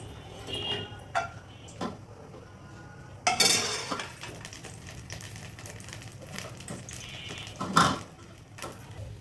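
A utensil stirs and whisks egg into hot chicken soup in a metal pot, making scattered clinks and scrapes against the pot with a louder clatter partway through, over a low background hum and without speech.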